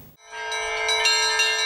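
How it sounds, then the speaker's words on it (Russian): Church bells ring out from the bell tower of a newly built church, a bright, sustained peal of overlapping metallic tones that swells and strikes repeatedly, loud and close with no talking. "колокольня, на которой уже звонят колокола"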